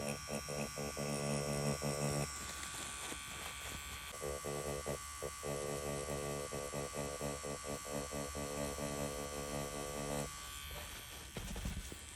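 A tattoo machine shading with a 5-round Cheyenne needle buzzes with a steady electric hum, cutting in and out in short repeated bursts, close and continuous.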